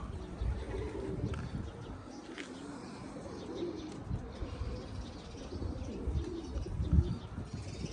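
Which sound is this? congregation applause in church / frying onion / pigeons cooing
pigeons cooing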